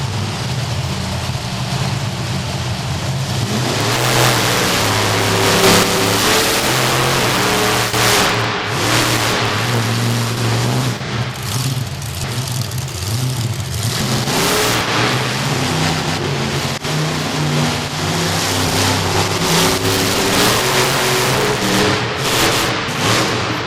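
Bigfoot monster truck engine revving hard while trying donuts at a Monster Nationals show in Corbin, Kentucky, loud surging roars that rise and fall across the run over a constant arena din.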